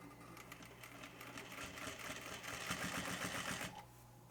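Sewing machine stitching a fabric crossbody pouch, a steady fast mechanical whirring and clatter that runs continuously for several seconds, close by, then stops abruptly.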